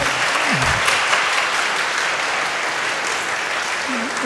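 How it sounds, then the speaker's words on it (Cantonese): Audience applause after a children's choir performance at a Christmas concert, dense continuous clapping from a full hall, loud and steady throughout, with a voice briefly audible within it. "我哋俾啲掌聲，再多謝佢哋。"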